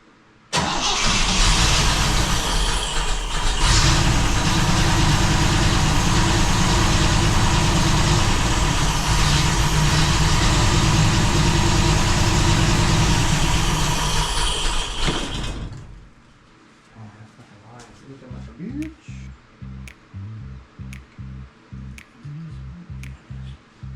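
A rare 1962 fuel-injected Corvette engine runs loud and close for about fifteen seconds, then cuts out, leaving a faint, uneven ticking and sputtering as it settles.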